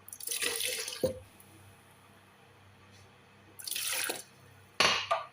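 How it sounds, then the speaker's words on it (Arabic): A kitchen tap runs water into a container while a fava bean dressing is being made, in two strong bursts with a quiet gap between them and a short final splash. "هحط مية"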